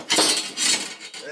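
A quad rail handguard slides onto a Remington 870 shotgun, giving a short close metallic scrape and clink in two quick bursts.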